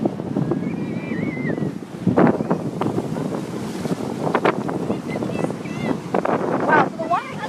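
Strong gusty wind roars across the microphone by the water at Ocean View in Norfolk, with steady rumbling buffeting and occasional louder surges, while faint voices come and go underneath.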